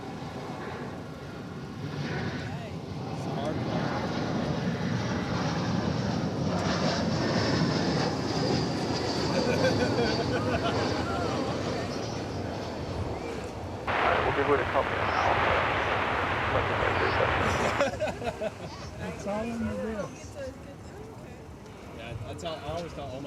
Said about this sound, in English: This is American Flight 1820, an Airbus A321 arriving from Ontario